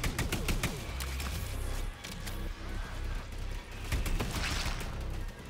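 Gunfire from behind in The Anacrusis, rapid shots in quick bursts, loudest at the start and again near the end, over busy game sounds with faint talk.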